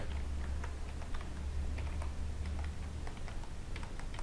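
Rapid keystrokes on a computer keyboard entering a command while building a Laravel project, a steady close clatter of clicks over a low background hum, no talking.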